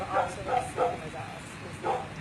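A dog kept outside in a crate barks and whimpers in a few short, faint bursts, spaced roughly evenly, with a person speaking nearby.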